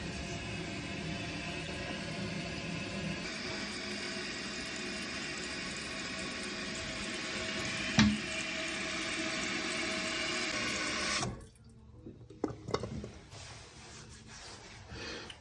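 A toilet tank refills with water in a steady, rushing hiss that stops abruptly when the fill valve shuts off, leaving faint clunks and quiet room sound.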